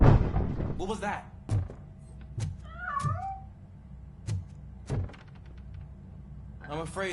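A cat meows a few times amid game noise from the RoboCop video game, with sharp door thumps and mechanical whirs around it and spoken dialogue near the start and end.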